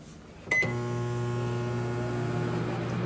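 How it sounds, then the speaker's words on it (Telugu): A click and beep start a steady, droning hum of a running microwave oven, constant and close, with no talking. "ఇది ఒక 2 నిమిషాలు మైక్రోవేవ్లో పెడితే కరిగిపోద్ది బటర్"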